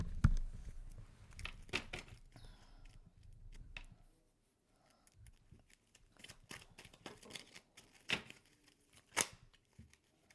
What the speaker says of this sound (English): I'm gonna shuffle one more time. I'm gonna let the cards just fall out